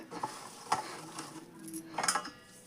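Ground niger seed powder sifted through a sieve over a basket, giving soft scraping and light metallic taps in a few brief bursts, quiet and close with no talk.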